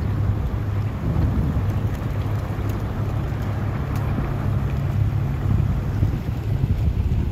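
River ice on the St. Clair River breaking up against the bow of a ship, a continuous dense rumbling and grinding roar with a low steady engine hum beneath, loud and close without any voices.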